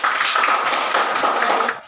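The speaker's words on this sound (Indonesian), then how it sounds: "tepuk tangan dulu" A classroom of students clapping their hands together in a short, dense burst of rapid overlapping claps, loud and close, fading out at the end.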